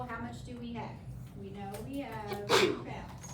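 One sharp, sudden sneeze bursts out near the end of a classroom lesson on unit conversion, briefly louder than the steady talking around it.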